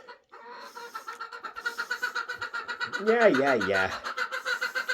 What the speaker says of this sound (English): I think that's the other coop rooster.